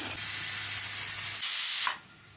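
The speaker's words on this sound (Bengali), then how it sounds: "তেলের মধ্যে পেঁয়াজ ভাজতেছি" Onions fry in hot oil with a loud, broad hiss that holds steady and then drops away sharply near the end, with no voice over it.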